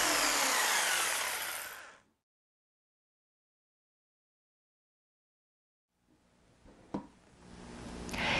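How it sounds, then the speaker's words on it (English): Jigsaw cutting through plywood, a loud, close, bright saw whine that cuts off into about four seconds of silence, then the saw starts up again more quietly and builds back up with a brief knock. "plywood with a jigsaw may be a little slower than using a circular saw, but it still gets through the material with very little effort"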